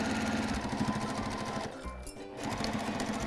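Sewing machine stitching binding onto a quilt, a close, steady rapid mechanical chatter that stops briefly for a moment, then resumes at the same even pace, with no talk.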